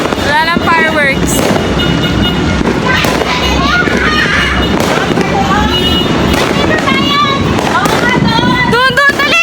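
New Year's Eve fireworks crackle and pop nonstop in the distance under wind buffeting on the microphone, with rising whistles of rockets streaking upward at several points while people talk and shout nearby.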